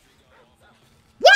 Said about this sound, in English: Dumbass fucking dog.